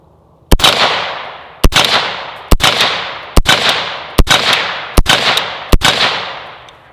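Seven sharp, loud suppressed rifle shots from a rifle with a Surefire SOCOM RC2 Mini suppressor, fired at a steady pace roughly one per second, each with a short ringing decay.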